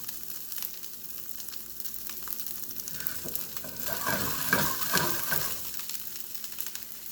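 Brussels sprouts fry and sizzle in a pan, a steady crackle with soft stirring scrapes that grows louder and busier in the second half, close and continuous with no talking.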